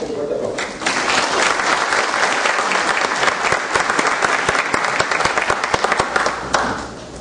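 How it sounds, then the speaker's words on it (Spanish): Loud, dense applause from an audience welcoming a guest speaker at a law-association talk, sustained steadily for several seconds before tapering off at the end. "Lo recibimos con fuerte aplauso."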